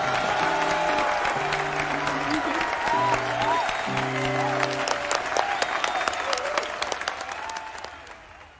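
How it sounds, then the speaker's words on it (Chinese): Dense, warm audience applause greets a guest walking onto a staged show, a continuous wash of many hands clapping over a soft musical backing, fading gradually toward the end. "现在呢，就让我们以最热烈的掌声，有请我们本期的美女嘉宾"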